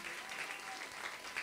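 A church congregation claps together in steady, dense applause, a brief even wash of hands with no pauses.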